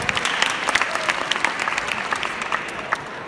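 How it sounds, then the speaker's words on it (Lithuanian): A lecture audience in a hall claps warmly for a photography speaker taking the stage, a dense steady burst of many hands with no voices over it. "plojimai jam"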